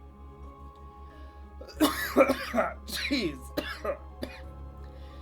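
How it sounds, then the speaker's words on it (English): Several short, harsh coughs and throat-clearing bursts close to the mic, with a brief muttered word among them over a low steady hum. "I'm still coughing from those bug voices."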